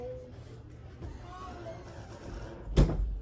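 A door is pushed shut in a house, a single sharp thud near the end, preceded by muffled background voices and room noise.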